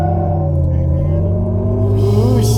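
A 1000-horsepower Hummer EV electric truck accelerates from a standstill, its motor humming and rising steadily in pitch as it pulls away, loud and close, with a faint voice at the end.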